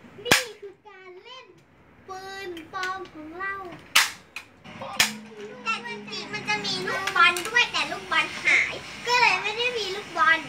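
Toy guns fire during children's play: sharp, loud cap-gun cracks ring out several times amid lively chatter from children.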